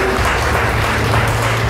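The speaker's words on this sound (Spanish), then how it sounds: "Fuerte aplauso para Diocelis" Steady audience applause in a theatre for a teenage pageant candidate at a beauty queen presentation, continuous clapping throughout with a low hum beneath.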